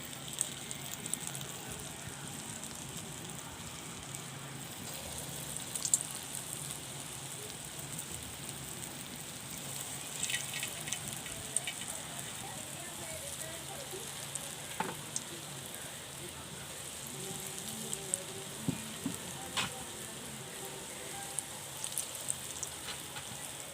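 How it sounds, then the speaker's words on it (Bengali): Khesari lentil batter fritters for rosh bora fry in hot oil, giving a continuous soft, rain-like sizzle with scattered pops and light stirring clicks, fairly quiet and close throughout. "তেলটা গরম হয়ে গিয়েছে, এদিকে আমার ডালটাও ফেটানো হয়ে গিয়েছে। এবার আমি বড়াগুলো ভেজে নেব।"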